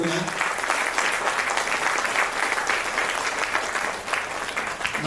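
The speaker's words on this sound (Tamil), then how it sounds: "ஒரு பெரிய கைத்தட்டல் கொடுங்க." An audience gives a big round of applause for a doctor's parents, a continuous, moderately distant wash of clapping that stays even throughout.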